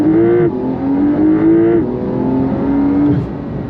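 Porsche 911 GTS engine revving under throttle, close and loud, its note rising and dipping through several pulls in a steady, sustained roar with no talking.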